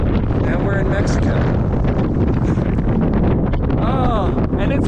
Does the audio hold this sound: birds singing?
no